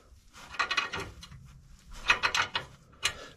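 Bolts being tightened on a Ford 9-inch rear end, with short bursts of metallic ratcheting clicks separated by pauses, close but fairly quiet, and no talk.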